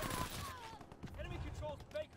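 An EMP-44 fires rapid automatic bursts in a World War II shooter game, crackling close and loud, with a voice talking over the shots.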